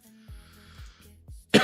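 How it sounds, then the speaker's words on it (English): A person coughs three times in a quick series of short, chesty bursts, close and fairly quiet, followed by a brief noisy exhale. "Excuse my coughing throughout the stream."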